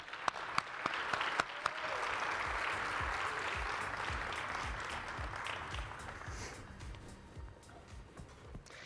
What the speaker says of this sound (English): Please give a big round of applause to Kevin and Sam